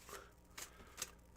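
Tarot cards being shuffled in quick riffling bursts, three or four crisp papery flurries spaced across a short stretch, close and fairly quiet with no talking.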